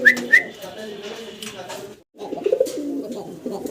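A desi golla pigeon coos in deep rolling phrases close by, with a couple of brief high whistles at the start and a short pause midway.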